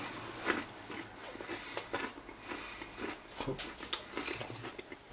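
Repeated crisp crunching of someone biting and chewing a crunchy peanut caramel bar, close up, with soft murmuring underneath.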